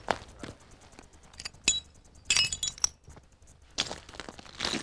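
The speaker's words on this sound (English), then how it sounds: "I'm just looking for some bits of glass that I might be able to use as a lens." Loose bits of glass clink and rattle in short, irregular bursts as they are rummaged through by hand, close and fairly loud, with quieter pauses between handfuls.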